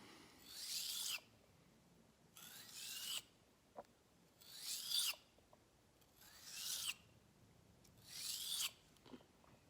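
Round knife blade being sharpened evenly around its curved edge, five separate bursts of bright, rasping strokes at a steady rhythm, close and clear, with short quiet gaps and small taps between them.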